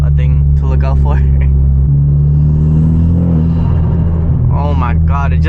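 A 300HP coupe engine fitted with an aluminum intake manifold, driving at night: a deep, steady engine rumble heard from inside the car, with someone talking over it.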